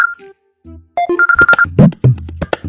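An electronic phone ringtone plays a bright, beeping melody of short repeated tones, clear and close, with no talk.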